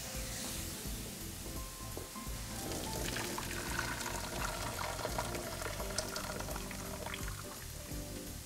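Water poured off boiled potatoes in a home kitchen, a steady continuous splashing and trickling stream close by, with no talk over it.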